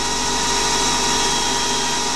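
A standard stub drill bores into a brass part on a small CNC lathe, giving a steady, loud, continuous whirring machine drone with no breaks and no voices.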